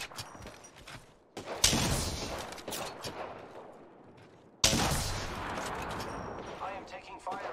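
Gunfire aimed at the player in a video game, two sharp bursts of shots each fading into a rattling tail, close and fairly loud, with a player's voice talking during the shooting.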